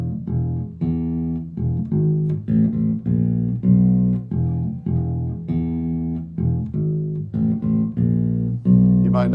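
Bass guitar plays a slow funk rock lick in E, a run of plucked notes in a steady, unhurried pattern with sustained low tones, close and solo with no voices.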